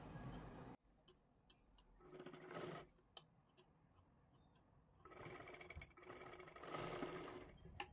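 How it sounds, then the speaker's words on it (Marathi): A sewing machine runs a straight line of stitches through fabric in two bursts of rapid, even ticking and whirring, close and clear, with a pause of quieter handling between them. "आता इथून मधून एक शिलाई मारून घ्यायची आहे आपल्याला"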